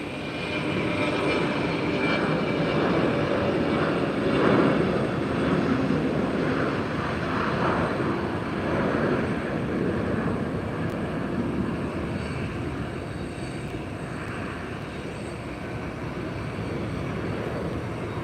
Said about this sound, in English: These takeoffs on 30 right, 30 left, really some steep climbs.